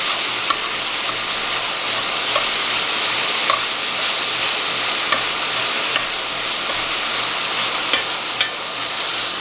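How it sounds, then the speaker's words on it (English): Sausage frying and sizzling in a pan while being stirred and chopped with a utensil, a constant loud crackling hiss broken by soft scraping clicks, no talking. "you just keep stirring that around,"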